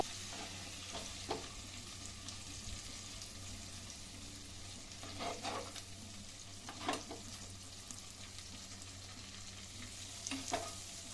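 Masala-coated fish fries in oil in a pan, giving a soft, steady sizzle with scattered crackles and pops that rise now and then, with no voices.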